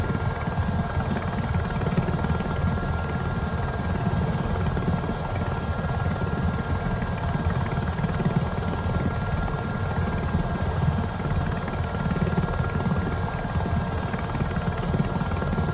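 A simulated Robinson helicopter in Microsoft Flight Simulator 2024 drones with a steady rotor and engine roar, constant and close throughout, with no voices.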